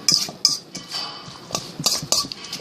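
Red wine vinaigrette being mixed in a dish, with close, irregular clinks and scrapes of a utensil against the dish and no talking.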